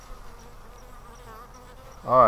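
Honey bees hum steadily at a hive landing board, a close, continuous buzzing drone that swells louder near the end as a bee passes near.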